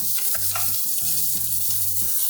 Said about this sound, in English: Listen to this sizzle when they go on there.